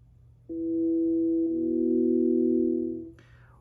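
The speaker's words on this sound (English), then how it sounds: "You'll hear the guitar strings ringing." Pure sustained guitar string reference tones from the Tone Traveler tuner app, one steady note starting after a short pause and then shifting to a lower string tone, clean and electronic, ending with a brief higher blip.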